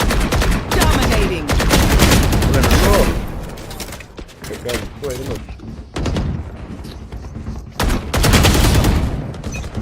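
Bursts of rapid gunfire from the video game Valorant crackle loudly in clusters, with dense volleys at the start and again near the end, and a voice talking in Malayalam between shots.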